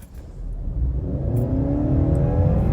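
A Honda CR-V hybrid with all-wheel drive pulls away hard from a standstill, its engine and motor whir climbing steadily in pitch and loudness over nearly three seconds, close and continuous with no talking.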